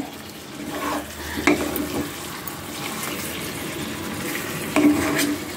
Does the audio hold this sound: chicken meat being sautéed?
yes